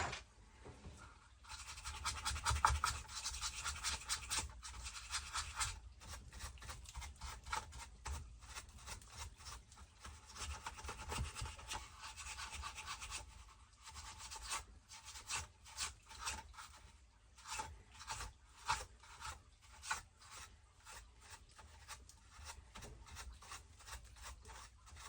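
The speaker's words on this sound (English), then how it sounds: "just going to give it a quick clean out and a bit of GT45 and a brush wherever I put my brush" A brush scrubs sand out of Traxxas XRT differential parts with quick repeated rasping strokes, close up and fairly faint, in uneven bursts with short pauses.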